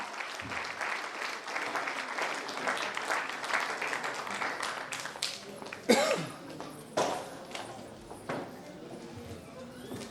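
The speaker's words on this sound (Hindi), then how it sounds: "एक बार जोरदार तालियां हो जाए बबीता जी के लिए" Loud applause at a Mughalsarai celebration event as Babita Vishwakarma comes onto the stage; dense crowd clapping carries through the first half, then thins into scattered claps and knocks while a voice talks.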